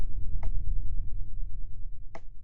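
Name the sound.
cracking sound in video game SCP Containment Breach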